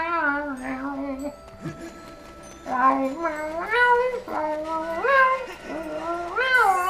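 A voice playfully imitates a cat, giving about five drawn-out, rising meows in a row, close and fairly loud, echoing Mario's cat suit in a video game, with a short spoken bit near the start.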